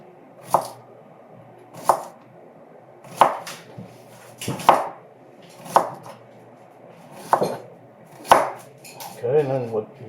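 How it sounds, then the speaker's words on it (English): A knife slices through an onion on a cutting board, making about eight distinct, evenly spaced thunks followed by a brief rustle, all close and clear, in a home kitchen making pasta fazool soup. "And just slice it along the rib."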